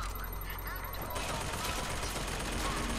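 Gunfire in BioShock Infinite, a dense rapid fusillade of shots in a continuous loud burst with a ringing tone at the start, partly under a voice.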